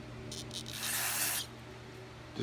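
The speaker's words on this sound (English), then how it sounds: "give it a quick spray over" A quick spray over a clogged Troybilt part: a half-second hiss loud and close over a low background hum, with a couple of faint softer puffs just before it.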